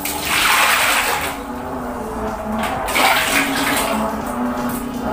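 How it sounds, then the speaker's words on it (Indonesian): A clogged toilet flushes with a rushing surge of water that swells, eases briefly, then rushes again, close by and fairly loud. "Coba kita siram lagi."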